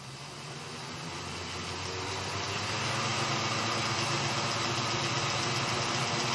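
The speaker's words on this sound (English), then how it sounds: "It's actually a quiet running motor." A quietly running Athearn SD70M model locomotive motor hums steadily with the faint rolling of its wheels on the rail, a smooth continuous whir that slowly swells in level.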